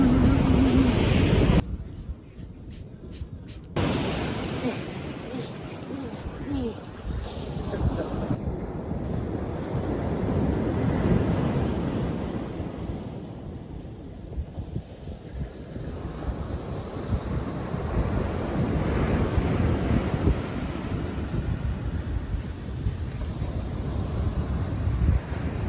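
Ocean waves roll onto a Florida beach in a steady, broad wash of surf, with heavy wind buffeting the microphone throughout and a few sharp bursts of wind noise early on.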